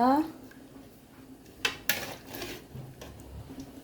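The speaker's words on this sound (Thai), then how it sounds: "ตักเนื้อตักเนื้อใส่เลยนะคะ" Pork is ladled from a pot into a bowl for a Thai spicy pork tendon soup, giving a few sharp metallic clinks of utensil against pot and bowl, fairly quiet, with someone talking around them.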